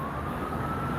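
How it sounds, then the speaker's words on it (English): A siren wails steadily in the distance over a constant low background hum, at a riverside. "That's the siren, like the Flyers game."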